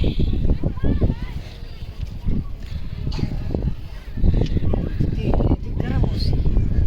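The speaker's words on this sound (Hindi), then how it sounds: "इतनी तेज़ हवा है ना कि जैसे उड़ा के ले जाएगी" Strong gusty wind at Manora Beach buffets the microphone in a steady roar, with a voice talking over it.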